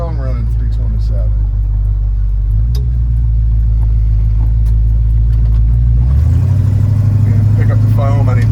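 Steady low idle rumble from the rebuilt 327 V8 of a 1965 Chevrolet Impala Super Sport convertible, close and loud, stepping up in pitch near the end as the engine is revved.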